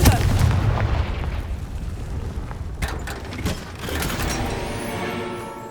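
A Confringo fire spell explodes in the Hogwarts Legacy video game, giving a loud, dense burst with crackling impacts, then a second flurry of bangs and a rumbling tail.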